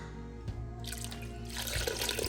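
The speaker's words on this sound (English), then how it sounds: "I'm gonna put some water in this" Water is poured into a cooking pan of lamb shank ragu, a continuous splashing pour that grows fuller and louder partway through.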